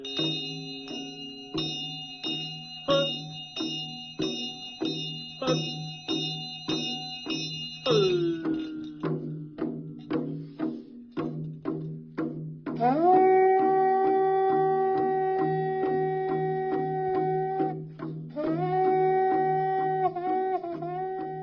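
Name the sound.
lone Chöd practitioner chanting with bell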